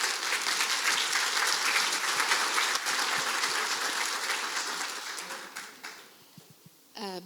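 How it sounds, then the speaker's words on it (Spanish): Sustained audience applause welcomes guest speaker Margaret Heritage at a feedback workshop. The clapping is dense and steady, then thins and fades toward the end before a brief voice is heard. "le damos la cordial bienvenida con un gran aplauso a nuestra invitada internacional"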